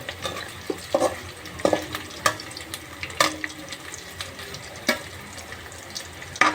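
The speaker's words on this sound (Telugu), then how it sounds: "చూడండి ఇలా వేగాయి, కానీ ఇంకా కొద్దిగా రెడ్డిష్ రావాలండి పొటాటో మొత్తము." Potato pieces frying in a pan for aloo fry, with a continuous sizzle broken by repeated sharp scraping stirs of a spatula at irregular intervals, close and fairly loud.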